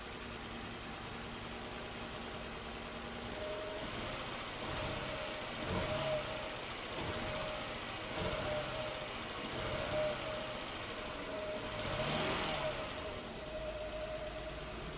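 A 1994 Nissan Maxima V6 idles smoothly after a home head gasket rebuild, a steady engine hum throughout with a few brief rattling bursts and faint clicks near the car.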